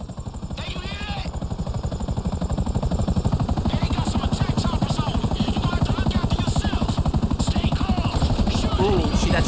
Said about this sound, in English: Helicopter coming in now.